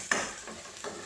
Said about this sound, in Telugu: పచ్చివాసన పోయేంత వరకు ఫ్రై చేద్దాం.